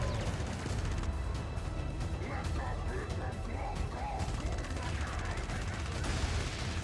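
Constant rapid gunfire against cyborgs in Helldivers, a dense, unbroken stream of shots and impacts filling the whole stretch at low overall level, with no pauses.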